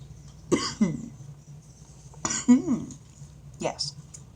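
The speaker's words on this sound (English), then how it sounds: "One big excuse me for any coughs." A person coughs and clears their throat in three short, close bursts, with quiet pauses between them.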